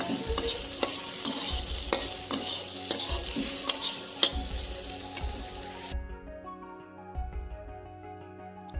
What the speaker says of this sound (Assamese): গোটেইখিনি মছলা বিলাহীৰ লগত ভালদৰে ভাজি লৈছোঁ